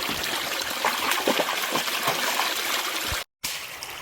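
Creek water flows and trickles steadily in a wooded Oregon Coast Range gully, a close, continuous babbling stream with small gurgles, broken by a brief cut to silence near the end.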